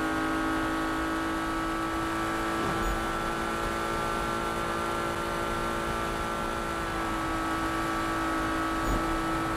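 A car engine in the Need For Speed racing video game drones steadily and loudly for the whole stretch, with a sustained mid-pitched tone and a couple of brief shifts; there is no talk over it.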